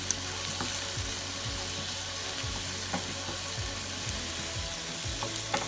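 Cauliflower fried rice sizzles and crackles steadily in a hot pan on the stove, a constant close frying hiss with faint stirring clicks and no voices.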